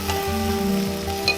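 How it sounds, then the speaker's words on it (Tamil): Onions, garlic and tomatoes sauté in a pan with a steady, close sizzle and occasional soft stirring scrapes, no talking over it. "என்ன வெங்காயம் வதங்கிடுது"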